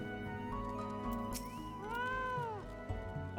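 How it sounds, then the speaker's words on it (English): A cat meows at a table in Final Fantasy XIV: Stormblood, a single drawn-out rising-and-falling meow standing clear over steady game music and background ambience. "Cat on table."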